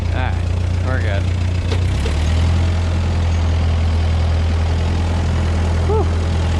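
A No.5 sickle mower engine running in low gear, a steady, loud, low drone that holds throughout, with someone talking over it.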